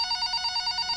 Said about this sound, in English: And then, in your apartment, Steele, the phone rings.